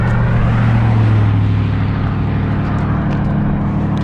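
From a motorcycle riding along a rural road on a clear day, a loud steady wind and engine roar with vehicles rushing past close by, a strong low drone with a brief rise near the start.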